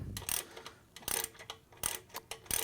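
Clicking ratchet-like turns of a 5mm Allen wrench tightening a bolt on a Yoshimura exhaust being fitted to a 2017 BMW R1200GS Adventure motorcycle, in three quick bursts of close mechanical clicks with short pauses between them.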